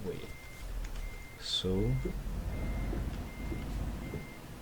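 Steady reversing beeps repeat at even intervals from a heavy truck hauling an excavator load, set against a low engine rumble while someone speaks briefly.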